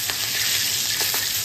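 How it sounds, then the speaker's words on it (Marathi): Pomfret fish fries in oil with a dense, steady, close sizzle and a few crackling pops, with no talk over it. "आणि आता पापलेटा फ्राय करताय ते म्हणजे अनिकेत."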